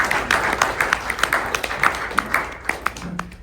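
Conference audience applause, a short spread of quick overlapping claps from a room of people, moderately loud and fading toward the end.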